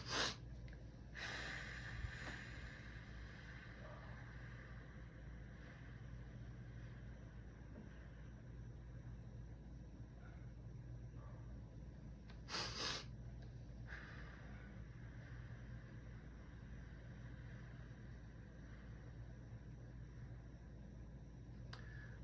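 A double inhale followed by a slow, long exhale as part of a calming breathing exercise, with soft quick intakes near the start and another pair later, then extended quiet breath noise.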